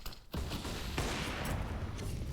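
AWP sniper rifle gunfire in the shooter CS:GO on the Mirage map during a professional match: an abrupt blast that runs into a dense, continuous roar of firing and game noise.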